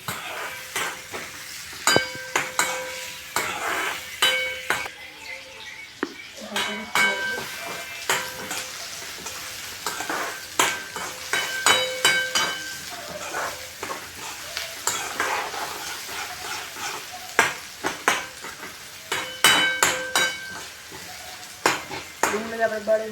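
Onions crackle and sizzle in hot oil in a pan, with steady stirring scrapes and occasional utensil clinks over a continuous frying hiss, close up, for a Gujarati peanut bhajiya curry.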